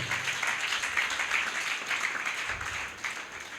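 A church congregation claps together during a Telugu sermon, a dense, steady patter of many hands that fills the room for several seconds and eases slightly toward the end.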